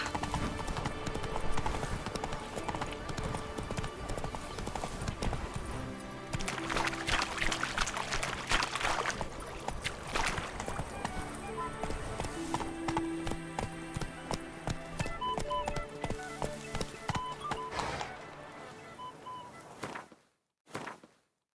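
Hooves of Roach, the horse in The Witcher 3, clip-clopping steadily at a walking pace over game ambience and music, fairly close, before cutting off abruptly near the end.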